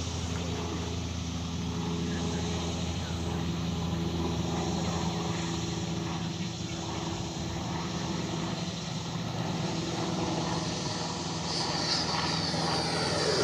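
An E-flite 90mm Viper RC jet makes a pass with a steady, distant ducted-fan roar. The sound is faint, broadband and continuous for over ten seconds, and no one speaks.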